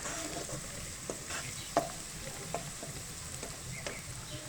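Ginger and garlic fry in a pan for chicken macaroni, giving a steady quiet sizzle with occasional crackles and soft stirring scrapes, and no voices.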